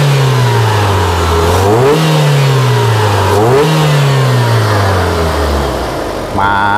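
A modified Opel Blazer engine revs up twice in quick succession, its pitch climbing on each blip and dropping back to a steady idle. The sound is loud and close, with no talking.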